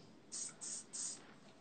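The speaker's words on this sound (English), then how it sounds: "Spray some on the bottom, spray on this." Hairspray is sprayed onto hair during home styling in three short, close hissing bursts with brief pauses between them, and no one talks.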